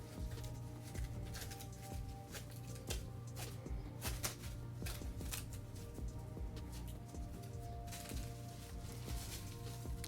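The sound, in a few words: plastic barrier wrap being wrapped around a tattoo machine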